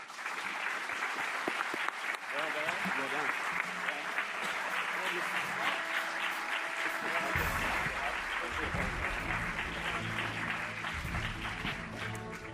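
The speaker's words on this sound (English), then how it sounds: "Please give these candidates a round of applause" A forum audience applauds Little Rock mayoral candidates with sustained clapping throughout, as voices talk over it and low music starts partway through.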